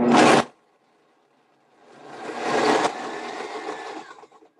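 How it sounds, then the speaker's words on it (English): A blender used as a food processor chops food in a kitchen: a short loud whir, a pause, then a longer grinding run that builds and trails off into rattling. "using the blender as a food processor"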